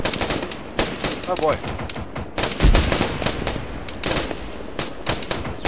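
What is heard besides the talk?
PKT machine gun fire in video game Arma 3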